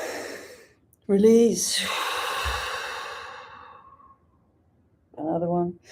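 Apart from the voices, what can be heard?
deep breaths taken during a guided breathing exercise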